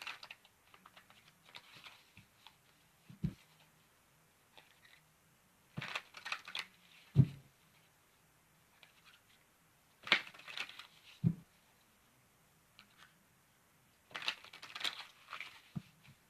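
Playing cards being shuffled in short crisp bursts, with four riffling flurries spaced a few seconds apart amid quiet pauses and a few soft taps, recorded close.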